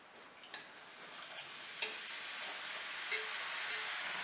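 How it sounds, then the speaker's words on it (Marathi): A second batch of namakpare dough pieces fries in hot oil, giving a soft, steady sizzle with a few faint clinks of stirring, quiet and close, and no voices. "आता आपण सेकंड बॅच तळून घेणार आहोत।"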